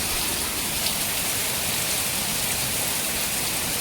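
Dense, steady downpour of heavy rain, a continuous loud hiss of drops striking surfaces with no pauses.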